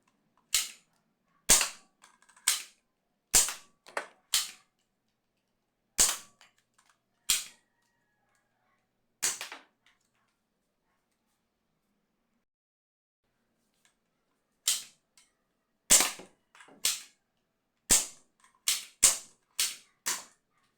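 A modified Nerf Alpha Strike Fang QS-4 blaster fires a series of sharp, close snapping shots, some in quick pairs and others spaced out, with a long quiet gap in the middle before a faster run of shots.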